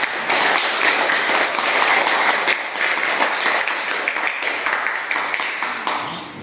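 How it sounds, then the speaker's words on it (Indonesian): A group of listeners applauds a student group in a classroom-style presentation setting, with steady, dense clapping that fills the whole stretch and gradually thins toward the end. "kita beri aplaus untuk kelompok 2."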